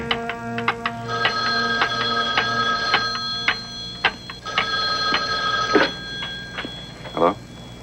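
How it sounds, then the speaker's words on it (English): An old-style telephone bell rings in repeated bursts, fairly close and clear, with soft background sounds between the rings. "Then the phone rang."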